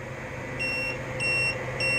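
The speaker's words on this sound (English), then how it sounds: "Oh, see, that's beeping. Why is that beeping?" Three short electronic beeps from a 12V off-grid electrical system in a cargo trailer repeat at an even interval, each a steady high tone, over a constant low hum.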